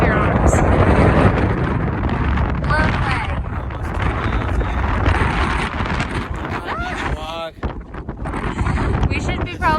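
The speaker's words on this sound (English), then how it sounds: "Let's get blown away by this wind." Strong wind roars and buffets the microphone at the very top of a hiking area, a constant loud rushing with gusts, while people talk and shout over it.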